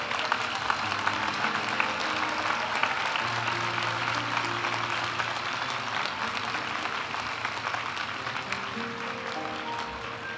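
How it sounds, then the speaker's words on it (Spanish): Fairly faint, steady applause from the audience for master's graduates at a university graduation ceremony, continuous clapping with a low musical tone sustained beneath it. "Aplaudimos ahora a los graduados de la maestría Administración de Empresas."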